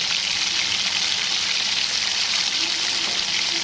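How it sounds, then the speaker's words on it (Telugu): Chicken pieces fry in hot oil in a kadai, a dense, even, close bubbling hiss that stays steady throughout with no voices over it. "ఇలా ఒక్కో పీస్ వేసుకొని ఫ్రై చేసుకోవాలి."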